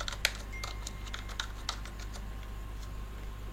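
Keys tapped on a computer keyboard while lettering a Valentine's promotion poster in Photoshop, a few sharp clicks scattered over a quiet, steady hum, close by and soft.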